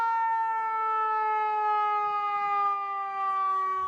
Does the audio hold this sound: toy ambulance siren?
yes